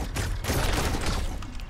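Vice versa machine gun firing in the Fortnite video game, a dense rapid burst of shots crackling loudly and continuously for under two seconds.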